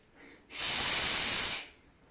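A human voice makes a sustained 'ish' hiss imitating a snake, one steady breathy burst of about a second, close and fairly loud after a brief quiet lead-in.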